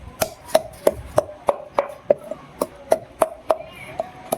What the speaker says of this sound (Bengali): ওটা গরম মশলা আমি বেটে নিচ্ছি